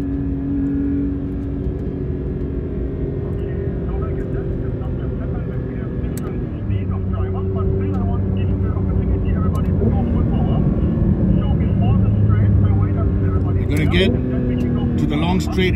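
A Porsche sports car engine drones loudly and steadily on the Sepang circuit, its pitch shifting in steps as if changing gears, with a brief rise near the end.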